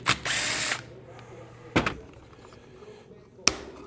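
A power driver fitted with a T27 bit whirs in short bursts while backing a screw out of a Stihl MS290/MS390 chainsaw, a longer run followed by two brief pulses with quiet workshop pauses between.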